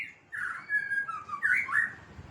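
A pet bird chirps noisily indoors in a burst of loud, close, whistling calls lasting about two seconds, with no other sound competing.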